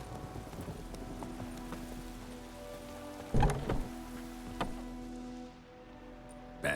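Hooves of a horse clip-clopping at pace in The Witcher 3 video game, a steady repeated beat heard under game ambience with rain-like patter and a few sharper impacts.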